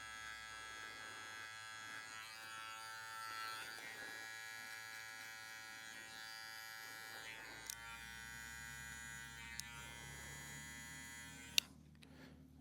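A Gamma Boosted UP hair clipper buzzes steadily while fading a long beard outdoors, a constant high-pitched electric whine with a few faint clicks near the end.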